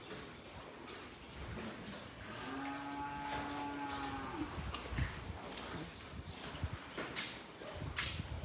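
A cow moos once in a long, low, drawn-out call at a cattle farm selling sacrificial bulls, rising above a steady outdoor background, with scattered knocks and shuffling of livestock around it.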